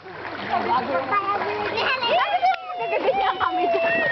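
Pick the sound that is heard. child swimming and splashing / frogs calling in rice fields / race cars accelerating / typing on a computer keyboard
child swimming and splashing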